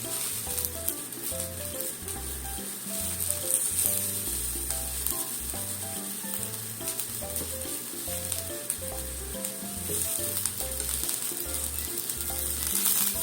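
Green onion and fried tofu sizzling in a pan: a steady, close crackle and hiss of frying runs throughout, with soft rhythmic low thumps and clinks from background music underneath.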